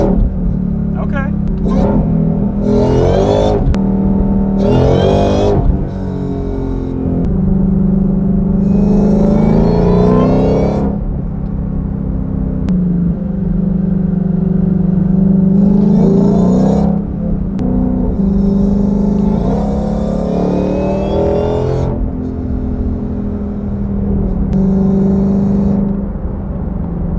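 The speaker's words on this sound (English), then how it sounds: "we're back in the 2020 GT500 after installing the Foster's Whine mod" A 2020 Ford GT500 fitted with a Foster's Whine mod revs and accelerates from inside the cabin, engine rumble swelling and falling in repeated surges with a whine on top, while people talk over it throughout.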